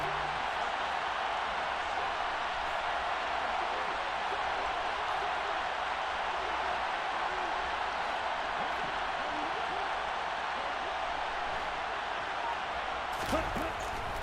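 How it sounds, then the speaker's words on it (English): An NFL crowd at a Chargers vs Jets game, building ahead of a big third down, keeps up a steady, even roar for the whole stretch, distant and dense, while a commentator talks over it. "The crowd getting into it as we come up on a big 3rd down."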